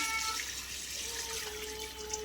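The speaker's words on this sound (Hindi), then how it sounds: "नमक डालने के बाद है ना पानी डाल रही हूँ" Water poured from a vessel into a cooking pot holding salted goat or lamb trotters for Hyderabadi paya marag, a steady close splashing pour with no talk.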